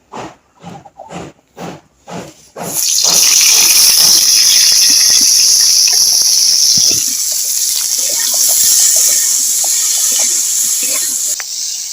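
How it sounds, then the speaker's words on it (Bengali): Green tomato dropped into hot oil in a wok, a few clinks first, then a sudden loud sizzling hiss that holds steady, crackling close up and easing slightly toward the end. "এবার টমেটোটা ভেজে নেব"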